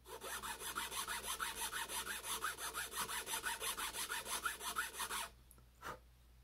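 Rapid, even back-and-forth rasping of a chainsaw file cutting a groove into wood, about two strokes per second, then it stops and a couple of faint knocks follow.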